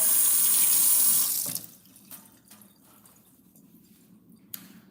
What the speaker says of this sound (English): I wash my hands with some soap